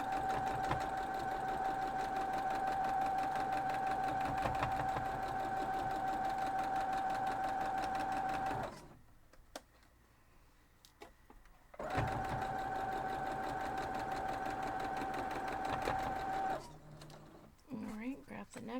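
A sewing machine stitches a quilt block in two long steady runs of rapid mechanical whirring and clatter, separated by a brief quiet pause, followed by some handling noise.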